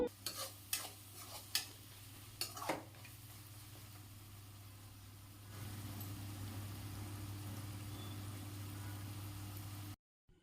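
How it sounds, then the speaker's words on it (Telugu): Rice being stirred into a pan with rock salt in a home kitchen, a few soft scrapes and taps early on, then only a quiet, steady low hum. "ఇందులోకి రైస్ని కలిపేసుకుంటే సరిపోతుందండి ఇదండి ఈ విధంగా అయితే కలుపుతున్నాను"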